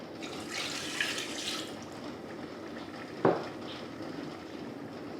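Apple juice pours into a sugar-based liquid mixture for a plum pie filling, a faint steady trickle with one small clink partway through and no speech.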